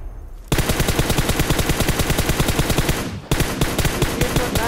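Automatic weapon fire in the mobile battle royale game PUBG Mobile, two loud, sustained bursts of rapid rhythmic shots with a short pause between them.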